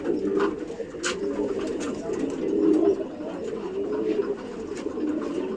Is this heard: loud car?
no